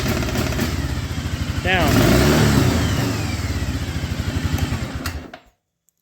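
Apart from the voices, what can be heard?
Arctic Cat Bearcat 454 snowmobile engine cutting out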